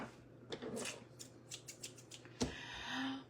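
Scissors cut fabric along a marked line for a country boutique hat, a rapid run of close, crisp snips followed by a single louder chop and some rustling.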